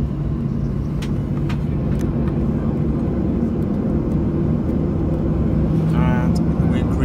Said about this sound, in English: And we're increasing the thrust. Okay, so almost about to take off and we're going really fast.